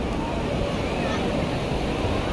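Sea waves at high tide on Diveagar beach on the Konkan coast, heard as a steady, dense roar of surf mixed with wind buffeting the microphone, continuous and fairly loud throughout.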